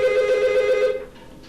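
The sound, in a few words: telephone ringing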